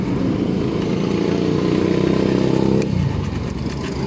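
Food Panda delivery motorcycle engine running with a noisy transmission, a loud close rumble that rises briefly then drops back to a steadier idle.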